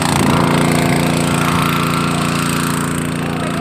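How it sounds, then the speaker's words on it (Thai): A 7.5 HP Sakura water pump engine runs at a steady, loud throttle, droning continuously up close while pumping water through the pipe. "ฟังเสียงเครื่องเครื่องแน่นแล้วครับแสดงว่าน้ำมาท่อแล้วครับ"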